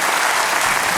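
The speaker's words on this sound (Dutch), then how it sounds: "nou applaus aan FC Zeeruisterveen." A studio audience at a Dutch comedy talk show bursts into dense, loud clapping for one brief second.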